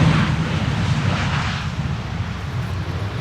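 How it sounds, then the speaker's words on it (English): Airliner arriving at Amsterdam Schiphol Airport in stormy crosswind, a loud continuous low engine roar with wind rumble, steady and slowly fading, no talk. "Vueling flight 8300 arriving from Barcelona."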